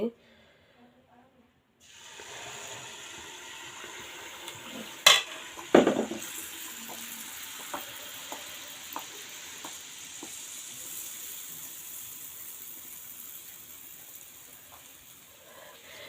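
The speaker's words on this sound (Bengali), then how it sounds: "এই তো এখন আমি তেল পিঠা এখন বানাবো তেল টেল সমস্ত কিছু আমি খুব সুন্দর করে গরম করে রেখেছি" Tel pitha oil cakes drop into hot oil and fry. After a short quiet start a steady bubbling sizzle sets in, with a sharp clatter near the beginning and soft pops scattered throughout.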